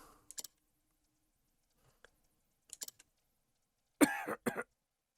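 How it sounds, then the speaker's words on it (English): A character in the Octopath Traveler video game coughs in a few short, separate, quiet fits, ending with a louder harsh double cough, with near silence between them. "Just coughed up some blood."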